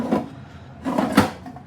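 Small drawer on a mini toolbox from SGS Engineering being pulled open, two or three short close scraping slides and knocks in a quiet room with no talking.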